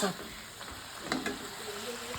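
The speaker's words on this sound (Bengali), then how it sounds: "এদিকে শাকটা ভাজা হচ্ছে" Leafy greens (saag) fry in a pan on a home stove, giving a steady close sizzle and crackle with a few stirring clinks, while a voice speaks faintly at moments.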